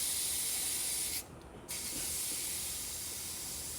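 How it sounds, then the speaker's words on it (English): Air pump inflating the rear tire of a Segway GT2 electric scooter, a steady close hiss of rushing air that drops out briefly for a moment mid-way, then resumes and runs on evenly. "So we're gonna pump that up to about 50, 56."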